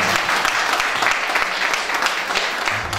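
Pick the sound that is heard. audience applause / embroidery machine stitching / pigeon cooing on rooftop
audience applause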